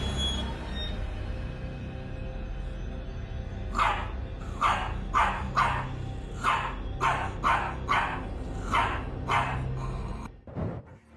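A Shih Tzu barks at a midnight intruder in a house, about a dozen sharp, fairly evenly spaced barks over a low hum, ending in a brief clatter.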